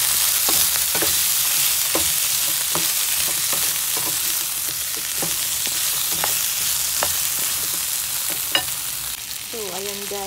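Chicken feet adobo sizzling in a pan with pepper added, a continuous hiss of frying broken by repeated scraping stirs of a utensil at irregular intervals, close and moderately loud with no voices.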